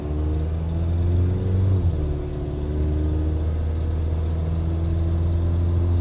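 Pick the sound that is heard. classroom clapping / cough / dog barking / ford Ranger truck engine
ford Ranger truck engine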